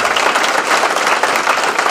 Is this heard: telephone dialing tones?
no